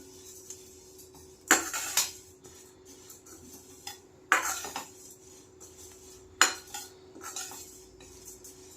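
Red poha roasts in a hot pan, with three bursts of metal scraping and rattling as a spoon stirs it, spaced a couple of seconds apart, and quiet low background hum between them.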